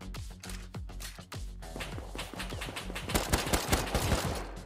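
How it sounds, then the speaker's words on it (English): Rapid bursts of gunfire in an online shooter video game, sharp repeated cracks and automatic volleys that grow denser and louder toward the end, with no voices over them. "Was that you shooting?"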